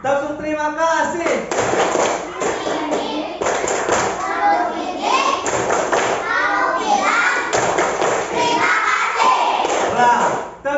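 Primary school children in an Indonesian class chant the rhythmic thank-you clap routine, their sung voices broken by sharp bursts of hand claps and thumps, loud and close throughout.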